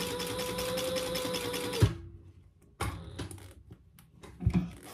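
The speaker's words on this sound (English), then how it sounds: "let's top stitch that zipper just on the outside fabric" A sewing machine runs steadily while top stitching a zipper on the outer fabric of a wristlet, a close rapid mechanical whir that stops abruptly, followed by a few soft handling clicks and taps.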